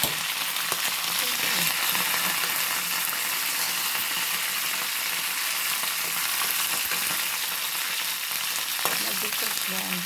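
Curry leaves sizzling and frying in hot oil in a pan, a loud, continuous crackling sizzle heard close up with faint stirring clicks, and no one speaking.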